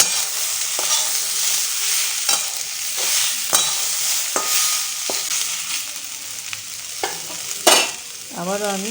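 Kundri frying with turmeric in a pan, with a loud continuous sizzle and repeated sharp scrapes of a spatula stirring at an uneven rhythm, close up.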